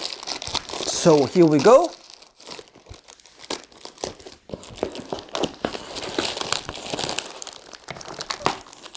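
A shipping package holding a Mac Mini is cut open with sharp crinkling and tearing of plastic and cardboard, loudest at the start, then lighter rustling continues while someone talks.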